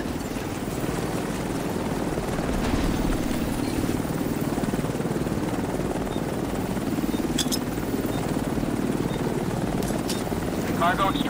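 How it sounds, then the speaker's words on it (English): An extraction helicopter arrives in the video game The Division 2, its rotor and engine drone forming a loud continuous thrum, with a few brief electronic chirps and game noises over it. "Pickup. Helo arrived."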